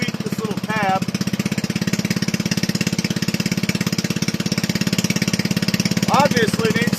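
A Toro model 18005 lawn mower's small engine, running without a governor on a spring-held throttle, idles with a steady rapid chugging throughout, while someone briefly talks over it near the start and end.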